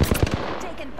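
Gunfire in the Apex Legends video game: a loud rapid burst of automatic shots that quickly dies away into a ringing tail.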